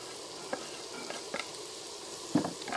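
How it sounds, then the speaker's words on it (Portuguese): Collard greens and onion sautéing in a pan: a soft, steady sizzle broken by a few faint stirring scrapes, the last one a little louder. "Agora você refoga tudo junto."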